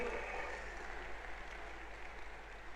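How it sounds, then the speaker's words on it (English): A church congregation claps together in a steady, even wash of applause that holds at moderate loudness throughout and fades slightly toward the end. "Somebody rise up and give the Lord a mighty clap up."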